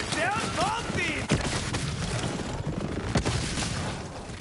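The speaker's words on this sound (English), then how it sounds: "Now that's what you call a shotgun. A shockwave." Shotgun blasts and chaotic combat noise from the Borderlands 3 video game, with dense repeated booms and impacts over a busy layered soundscape, plus brief chirping voice-like sounds near the start.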